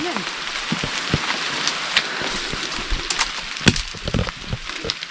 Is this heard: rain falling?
yes